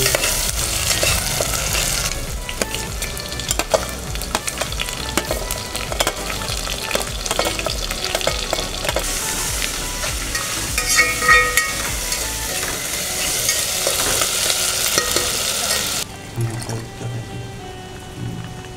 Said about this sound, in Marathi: आलूला पण व्यवस्थित मध्ये तेलामध्ये मिक्स करून घेऊ